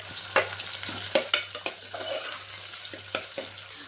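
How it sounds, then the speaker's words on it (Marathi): Onions sautéing in hot oil in a pan produce a constant close sizzle, broken by repeated sharp clicks and scrapes of a spatula stirring, with no talking. "त्या तेलामध्ये छान असं ना कांदा आपला परतून घ्यायचा आहे"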